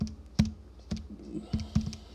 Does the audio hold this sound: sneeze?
no